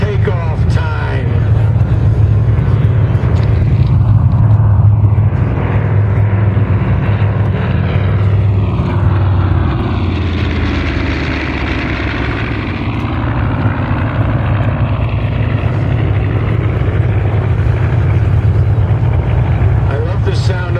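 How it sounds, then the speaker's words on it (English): Twin Wright R-2600 radial engines of a B-25 bomber roaring at takeoff power, a loud, sustained droning rumble with a throbbing propeller beat that holds steady throughout. "I love the sound of those R2600s."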